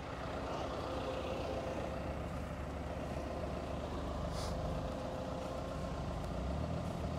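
A tractor-mounted soil sampling machine with a front air compressor runs steadily, giving a continuous low engine rumble and broadband mechanical noise at moderate distance, with no talk.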